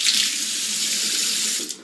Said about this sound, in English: clean it off with some hot water